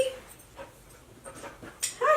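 A dog pants softly and lets out faint whimpers and small yips indoors, close by, with brief quiet gaps between the sounds.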